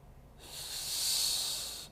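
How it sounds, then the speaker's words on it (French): A deep, low abdominal breath drawn in before playing the French horn, a steady airy hiss swelling gently for over a second and fading, close and quiet with no talk. "il faut prendre une respiration abdominale"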